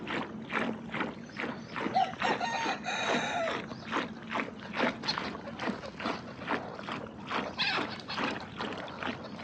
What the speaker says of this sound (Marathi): उजळता उजळता पक्ष्यांचा म्हणजे आवाज भरपूर येतो नाही का